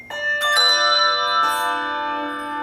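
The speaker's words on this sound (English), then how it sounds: "I'd like you to ring the bell and go like that." A hand bell rung in a classroom gives several bright metallic strikes in quick succession, then a second clang about a second later, each tone ringing on and slowly fading.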